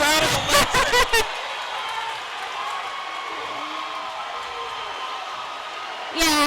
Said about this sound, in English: The fans losing their mind on both sides.